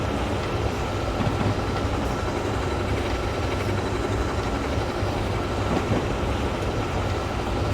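A train runs at speed along the rails in Train Sim World, a dense, continuous rumble and roar with faint rhythmic clatter from the wheels, steady and loud throughout.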